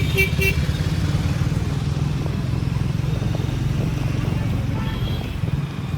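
Busy road traffic near a junction in Chennai, heard from a riding motorcycle: a steady close engine drone with brief horn toots from nearby vehicles.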